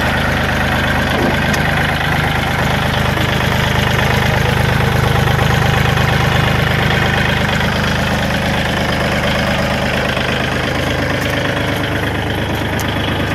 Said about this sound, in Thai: เปิดเครื่องให้ดูเลยนะ